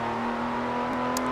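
TVR Sagaris engine in a racing video game, holding a steady high-revving drone with a strong sustained tone, loud and continuous with no talk over it.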